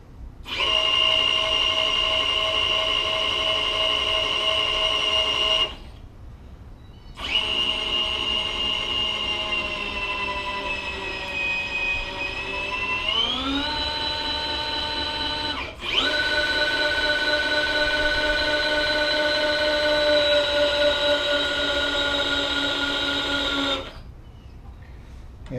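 Power knee on a milling machine running: a steady motor whine rich in harmonics, running in long stretches with short pauses and a pitch shift midway, loud and close.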